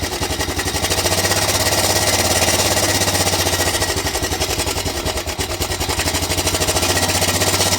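A 2008 Honda Recon ATV, left abandoned for over 15 years, idles steadily with a loud, rapid, even engine chug that holds its rhythm throughout.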